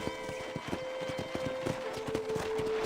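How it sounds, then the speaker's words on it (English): A horse gallops in the Red Dead Redemption video game, with rapid rhythmic hoofbeats clip-clopping close and clear over a steady sustained tone. "let's see if you can still ride a horse"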